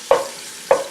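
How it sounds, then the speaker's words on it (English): Beef stew cooking in a pot on a wood-burning stove gives two short, close sizzling bursts about half a second apart, each fading quickly, with no talking. "Oh, you can hear the sizzling."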